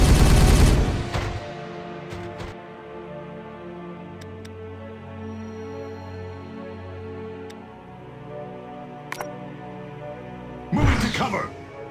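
Gunfire in the video game Warhammer 40K Regicide, with a loud burst of shots at the start, a quieter stretch under game music, and another heavy blast near the end.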